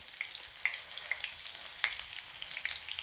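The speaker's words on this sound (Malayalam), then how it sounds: "നമ്മൾ കുറച്ച് വെളുത്തുള്ളി ഇങ്ങനെ തൊലിയടക്കം ചതച്ച് വെച്ചിരിക്കുകയാണ് അതിട്ട് കൊടുക്കാം" Crushed garlic, still in its skin, sizzles in hot oil while fish fry is being made, giving a steady crackling hiss with small pops scattered throughout.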